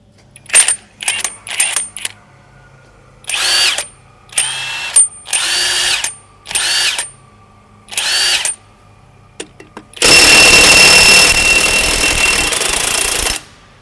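A Profitek 2100 Nm impact wrench at a truck service works loudly up close. Several short rattling bursts of hammering come in an uneven rhythm, then one long sustained hammering run.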